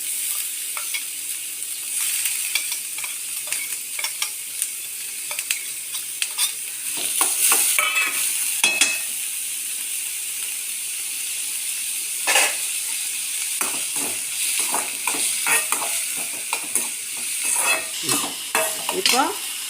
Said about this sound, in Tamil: இப்போ வெங்காயம் வதங்கிட்டு இருக்கு